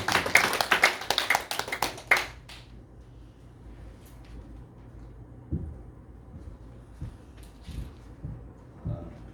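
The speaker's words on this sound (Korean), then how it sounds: "우리 박수로 맞이하도록 하겠습니다." A church congregation at a Sunday service in Samcheok claps to welcome the preacher, a short burst of many hands lasting about two seconds, then fading into quiet room noise with a few scattered shuffles and taps.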